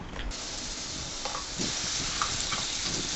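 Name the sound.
ground spice paste sizzling in hot oil for dum aloo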